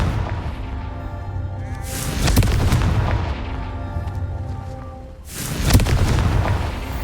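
A Confringo fire spell from the Hogwarts Legacy video game goes off in two loud booming blasts, one near the two-second mark and a second one later, each with a rumbling tail that fades over the game's ambient score.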